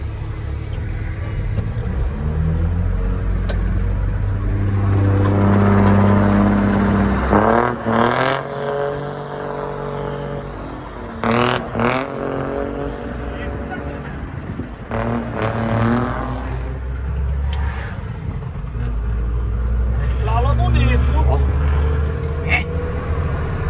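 A car engine revs and accelerates on a track in a video game, rising and falling whines over a low rumble, with excited voices talking over it throughout.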